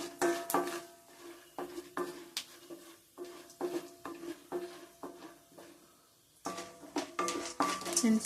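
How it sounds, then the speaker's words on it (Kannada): Chana dal frying in a pan while a spoon stirs it, producing regular metallic scrapes and taps at an even rhythm with a faint sizzle underneath, pausing briefly before the stirring resumes. "ಈಗ ಸ್ವಲ್ಪ ಕಡಲೆಬೇಳೆ ಸ್ವಲ್ಪ ಬ್ರೌನ್ ಆಗೋವರೆಗೂ ಮಿಕ್ಸ್ ಮಾಡ್ಕೋಬೇಕು"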